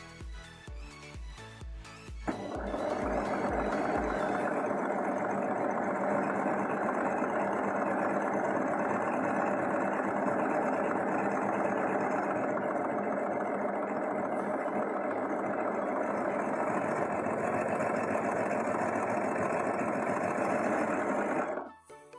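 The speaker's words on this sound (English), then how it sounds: "Take each of your 4 pocket pieces and we're going to overlock the curved edge." An overlocker serges the curved edges of fabric pocket pieces for a dress skirt, a steady loud mechanical whirr running continuously for about twenty seconds after a few brief starting clicks.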